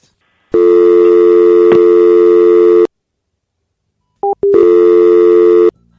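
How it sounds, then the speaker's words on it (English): A loud telephone tone played from a soundboard, a steady electronic hum held for about two seconds, then after a pause two short blips and another sustained tone, alone with no talk. "I played the sound of a dial tone"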